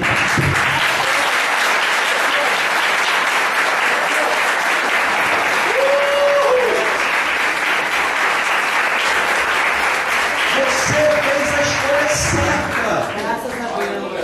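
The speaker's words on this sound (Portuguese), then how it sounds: "Eu quero, em nome de Jesus, aplaudir você." A church congregation breaks into sustained, dense applause that fills the space from start to finish, loud and steady, with a few brief voices and shouts rising above the clapping.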